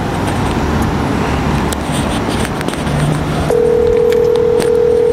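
A mobile phone dials out amid steady road and traffic noise, with a short beep and then a steady outgoing call tone that continues to the end.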